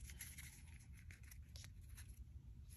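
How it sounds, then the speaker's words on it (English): A deck of playing cards is shuffled, a quiet run of crisp, rapid riffling flutters and light snaps over a low background hum. "let's give the deck a quick little shuffle here"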